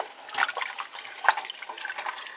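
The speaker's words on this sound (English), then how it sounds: "Give everything a good stir." A spoon stirs potato soup in a pot of potatoes and their soaking water, giving soft, quiet liquid sloshes and wet swirling splashes with a few brighter clinks, close and uneven in rhythm.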